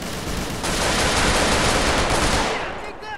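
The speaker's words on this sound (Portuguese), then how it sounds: "que barulho de tiro, hein?" Dense, continuous rapid gunfire in GTA multiplayer, loud and sustained for a few seconds before cutting off into a brief voice.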